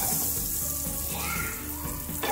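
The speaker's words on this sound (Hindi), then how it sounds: "चलो अब हम इसमें बटर डाल के बन को सेक देते हैं, इसे मेल्ट होने देते हैं" Butter melting and sizzling in a pan before burger buns go in for toasting, a steady close hiss holding for a couple of seconds with no talk.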